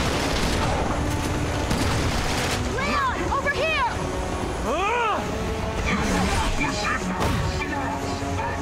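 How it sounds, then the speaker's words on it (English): Enemy gunfire in Resident Evil 6 on No-Hope difficulty during Leon's chapter 4, with sharp shots and whistling, swooping sweeps over a dense, noisy game soundscape of rumble and effects. "Is he shooting at me?"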